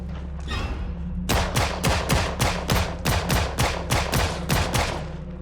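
Gunfire near a bunker in Project Zomboid, with a string of sharp, loud shots after a brief quieter lead-in, fired in a fairly regular rapid rhythm over a low, constant background hum.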